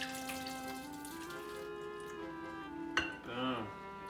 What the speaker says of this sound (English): We're gonna dump off that excess liquid, the excess juice.